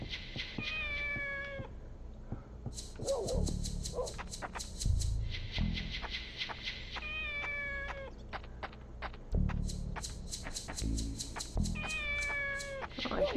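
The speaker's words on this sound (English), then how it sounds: "It must be that kitten." A kitten in the video game Shenmue meows repeatedly in short high mewls, spread across the scene in several bursts, with quiet game ambience underneath.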